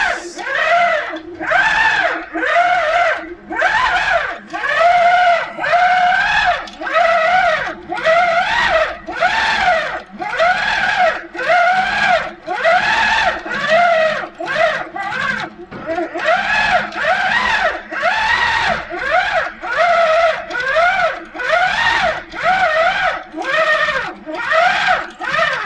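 A Handi Quilter moveable longarm quilting machine stitches swirl patterns on black fabric, its motor whirring loud and close in rapid rising-and-falling bursts that repeat steadily throughout.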